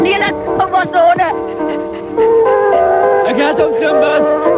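Dogs whimpering, yipping and barking in a 1975 Afrikaans drama scene, loud and close, with excited bursts over agitated human voices.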